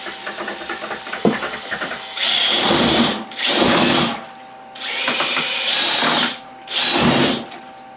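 Power drill mixing sugar into apple and pear wine must, whirring loudly in four separate bursts of roughly a second each with short pauses between, after a quieter stretch of handling noise.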